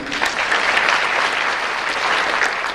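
An audience at the 2012 World Fantasy Awards ceremony applauds after a nominee's name is read, with steady, dense clapping from a large crowd that stays even throughout.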